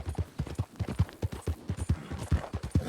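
Horse hooves clip-clop at a steady trotting rhythm in Red Dead Redemption 2, close and clear with no voices over them.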